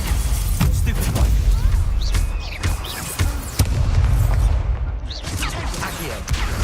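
Stupefy spell impacts during combat in Hogwarts Legacy: dense, loud blasts and booming hits in quick succession over a constant roar of battle effects.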